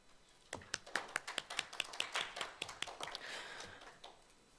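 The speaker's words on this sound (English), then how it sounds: "Clap for yourself." Students at a student senate meeting clap after a motion carries, a sparse handful of hands giving a quick run of separate slaps that thins out after a few seconds, quiet and a little distant in the room.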